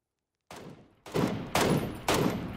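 Gunfire from a PUBG battle royale match: a single sharp shot followed by three louder, evenly spaced reports about half a second apart, each with a ringing tail, no voices over them.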